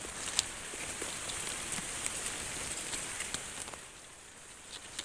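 Steady rain patters on a surface throughout, a soft continuous hiss with scattered individual drop ticks, fairly faint and even with no voices.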